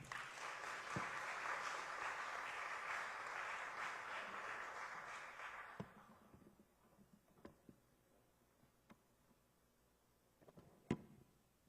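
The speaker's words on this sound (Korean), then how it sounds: "우리 나오실 때에 우리 뜨거운 박수로서 우리 환영하겠습니다" Warm applause from a church revival congregation welcoming a pastor to the front, steady and full for about six seconds, then fading out, leaving a few isolated sharp knocks and taps in a quiet room.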